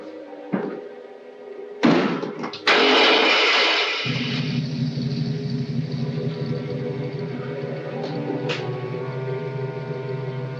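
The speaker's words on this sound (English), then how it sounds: "Start the motor." A car motor cranks and catches after a couple of sharp door-like slams, then settles into a steady, moderately loud idle that runs on to the end.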